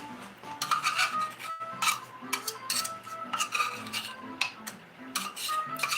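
A spatula scrapes out a mixing bowl of cream cheese stuffed pumpkin bread batter, repeated close rasping strokes with soft clinks in a steady working rhythm, no talking.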